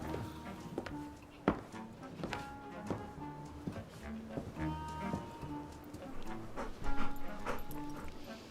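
A dog whimpers and yips in short, high, repeated cries over a quiet room, with light thumps and faint voices in between.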